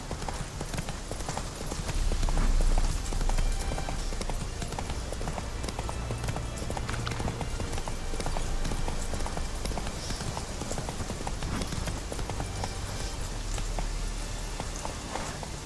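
A horse galloping in The Witcher 3 beats out steady, rapid clip-clop hoof strikes throughout, with a rain-like hiss behind them and a brief rumble early on.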